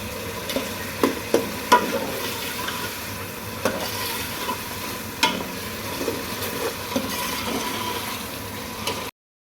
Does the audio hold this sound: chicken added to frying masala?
yes